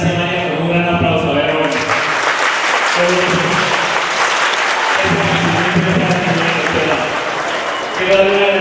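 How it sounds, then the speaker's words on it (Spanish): Loud, sustained applause from an audience at a social welfare visit event in Samacá, Boyacá, with steady tones from music playing underneath throughout. "a la doctora Nancy Amaya, con un gran aplauso."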